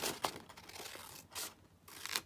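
Coffee-dyed paper is cut out by hand in short crisp snips and rustles, close and fairly quiet, with a few louder crinkling bursts.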